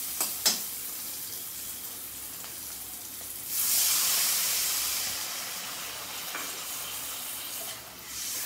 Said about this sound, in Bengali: আমি এর মধ্যে জল দিয়ে দেবো।